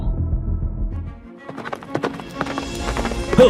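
A horse's hooves clip-clop in a quick rhythm after a brief lull, with a short whinny-like sound near the end.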